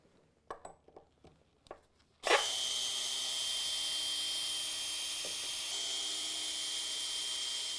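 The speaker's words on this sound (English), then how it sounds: "So we'll start by removing these four screws on this top block." A few light taps and clicks come first, then a power driver whirs continuously as it backs screws out of the top block of a DR leaf and lawn vacuum power unit. The whir is steady and fairly close, with no talk.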